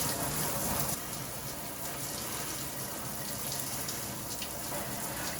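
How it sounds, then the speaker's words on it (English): Tap water gushes steadily from a kitchen faucet, rinsing dust out of a Midea U-shaped window air conditioner filter, a constant close hiss and splash with no pauses. "I'm gonna rinse it from this side and get all that dust out."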